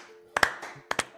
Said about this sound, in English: Yay, awkward clapping.